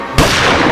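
A single loud gunshot bursts out after a brief quiet moment and rings on with a sustained blast.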